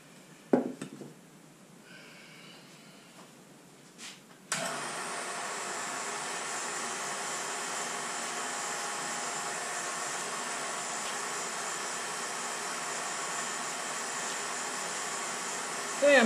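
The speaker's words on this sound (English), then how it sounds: "Now I'm going to turn on the vacuum pump, and that's going to make a lot of noise" A vacuum pump in a flow media test setup switches on after a few seconds of quiet clicks and runs loud and steady, a constant broadband whir that continues without pause to the end.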